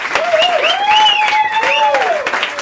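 Audience at an improv theatre show applauding, with whooping voices rising and falling above a steady wash of clapping throughout.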